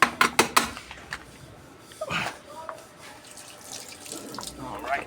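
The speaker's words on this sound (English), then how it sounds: "I just wash this off, get it wet" Tap water runs and splashes over a freshly cut piece being rinsed, with a few sharp clatters at the start and an uneven, nearby gush that swells and fades.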